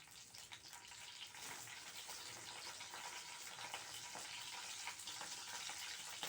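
Mustard seeds and curry leaves sizzling in about two spoons of hot oil in a home kitchen, a steady close crackling hiss with scattered sharp pops throughout, fairly quiet.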